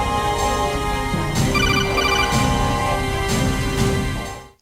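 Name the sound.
telephone ringing in Metal Gear Solid video game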